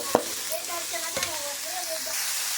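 Chopped onion frying in a hot pan, a steady sizzle with a few clinks and scrapes of stirring, close and moderately loud.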